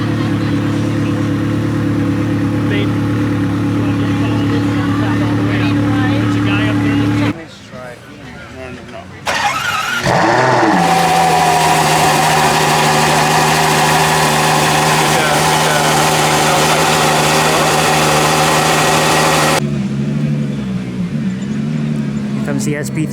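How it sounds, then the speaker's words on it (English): A Ferrari SP3 Daytona engine at a Pebble Beach 2022 Ferrari gathering, close and loud: a steady mid-pitched drone with rising revs, a short quiet gap, then a strong sustained roar. Voices talk over it. "comes the SP3 Daytona"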